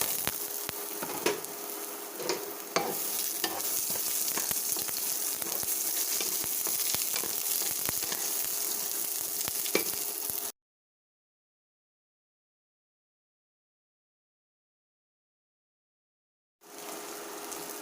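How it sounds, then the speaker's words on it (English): Garlic and onions sauté in a pan with a loud, continuous sizzle and crackle, broken by scattered sharp pops and scrapes. The sound then cuts to silence before the sizzle returns briefly. "We will saute the garlic and the onions"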